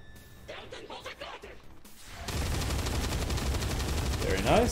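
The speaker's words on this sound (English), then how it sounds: "Stun Lancer, shotgun to the face." In the video game XCOM 2, a shotgun blast hits a Stun Lancer in a loud, dense burst of gunfire sound that rings on for a couple of seconds, following quieter chatter.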